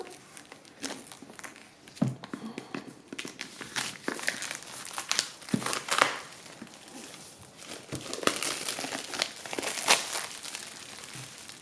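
Tarot deck packaging being opened by hand, a string of crinkling and tearing bursts of plastic wrap and cardboard, close and irregular, with brief pauses between handling noises.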